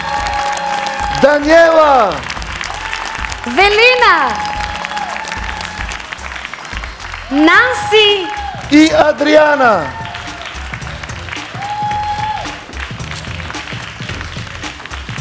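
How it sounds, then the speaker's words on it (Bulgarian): A studio audience at a beauty pageant final applauds and cheers steadily while a host loudly calls out contestants' names, the clapping running under the amplified voice throughout. "Бурни аплодисменти!"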